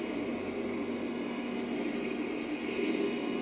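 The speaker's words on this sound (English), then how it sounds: "Yeah, it sounds like ocean waves, and that one's not too bad." A baby sound machine plays its ocean waves setting, a steady, even rushing hiss with only slight swells, continuous and unbroken throughout.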